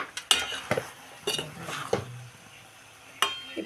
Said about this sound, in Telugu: ఇప్పుడైతే ఇలా కలుపుతున్నాం చూడండి